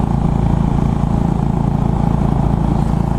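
A Royal Enfield Bullet 500 single-cylinder motorcycle cruises at about 90 km/h, its engine a loud, steady, close thumping rumble mixed with wind noise, with no talking over it.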